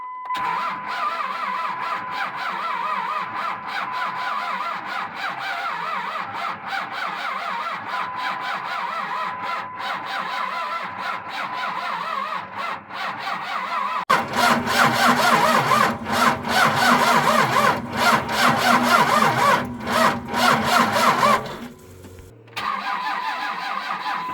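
An engine cranks repeatedly, then catches and roars to life loud and steady for several seconds before cutting out briefly and restarting.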